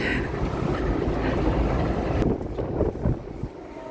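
Strong wind buffets loudly for a couple of seconds, then drops to a quieter gusting rumble.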